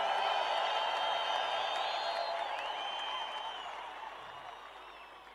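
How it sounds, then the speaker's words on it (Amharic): Church congregation in Ethiopia applauding with high ululation trilling over the crowd, dense and sustained, gradually fading toward the end. "እንደገና ለእግዚአብሔር እልልታ ጭብጨባ ሃሌሉያ"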